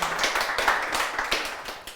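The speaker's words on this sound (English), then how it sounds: "Let's give her a round of applause." An audience claps continuously in a dense, steady patter of many hands, moderately loud and with no voices over it.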